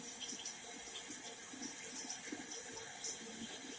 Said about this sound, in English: it's important to clean the inside, and then you rinse them out real good